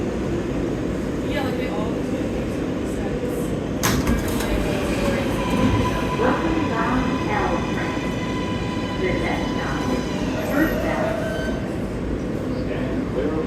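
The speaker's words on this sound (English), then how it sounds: "these are 60-foot cars, 10-car train, so it's 600 foot long" A 10-car New York City subway train of 60-foot cars rumbles steadily on the Chinatown–Williamsburg route, with wheel screeches, clanks and faint tonal whines over a constant loud roar.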